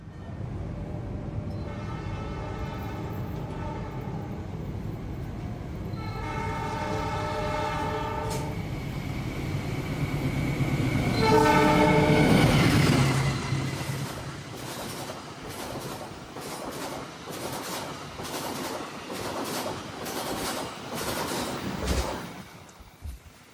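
The Pasundan economy-class passenger train pulls into Karangpucung station in Indonesia, heard from on board: repeated horn blasts over a rolling rumble that swells, then steady clickety-clack of wheels over rail joints as it slows, with no voices.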